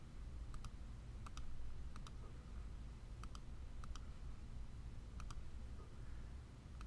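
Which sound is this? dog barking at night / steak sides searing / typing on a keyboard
typing on a keyboard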